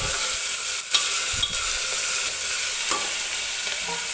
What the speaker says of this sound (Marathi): आणि हा कांदा आपल्याला हलक्याशा गोल्डन रंगावरती तेलामध्ये भाजून घ्यायचा आहे.